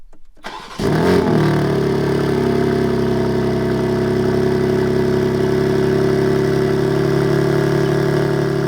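BMW G80 M3 cold start: a brief click, then the engine cranks and fires with a loud flare before settling into a steady, close idle drone that holds to the end.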